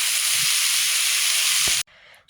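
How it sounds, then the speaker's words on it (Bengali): Diced potatoes for aloo bhaji fry in hot oil in a home kitchen, giving a loud, constant sizzle close by that stops abruptly near the end, leaving a faint background hiss. "এখন আমি এই যে আলু ভাজিটা করে নিচ্ছি"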